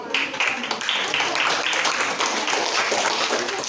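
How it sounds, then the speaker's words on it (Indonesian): An audience in a classroom or small group breaks into steady, dense clapping that continues throughout, fairly close and evenly loud. "Tepuk tangan dulu untuk Anda semuanya."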